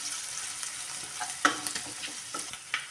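Ground coconut masala with turmeric powder fries softly in a pan under a light hiss. Stirring adds irregular scraping taps, a few sharper knocks among them, and no one speaks.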